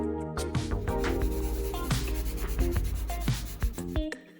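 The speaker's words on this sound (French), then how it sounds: "Je vais donc essayer de frotter directement avec le bicarbonate de soude." Steady scrubbing with baking soda against a stained plastic surface of an old 2001 Packard Bell computer, a continuous gritty rubbing with rhythmic strokes and small knocks, close and fairly loud, no talking.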